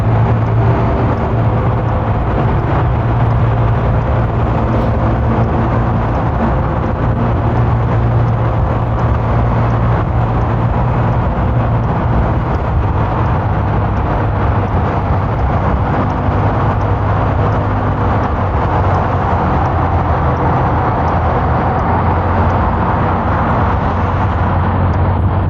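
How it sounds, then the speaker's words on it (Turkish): Steady car traffic rolling through a chaotic tunnel still under construction on the Istanbul–Tekirdağ route, a continuous loud engine and tire drone with a low rumble and no pauses, with no talking. "İçinden trafik akıyor."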